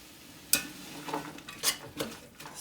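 A spoon scrapes and knocks in a pot as sausage browns for an Italian soup, a few separate sharp clinks and stirring scrapes over a faint background, fairly quiet and close.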